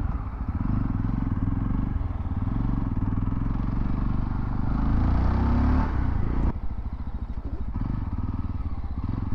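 Yezdi Roadster motorcycle engine running steadily while riding, a loud continuous low thrum with a brief rise in revs and a sharp change around the middle, no talk over it.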